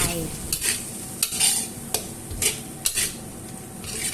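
Bamboo shoots with red curry paste, kaffir lime leaves, chillies and minced pork are stir-fried in a pan, with a steady sizzle and rhythmic spatula scrapes about every half second, close and clear, with no talking.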